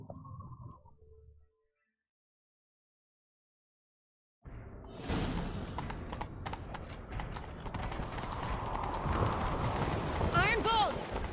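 Horses galloping in the Witcher 3 Wild Hunt game, a dense, loud run of hoofbeats that kicks in after a brief bit of talk and a silent pause, carrying on steadily to the end.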